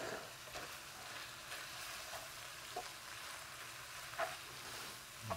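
Grated carrot frying in a pan while making Indonesian pastel goreng pastries, with a steady soft sizzle and occasional stirring scrapes and taps, close and moderately quiet.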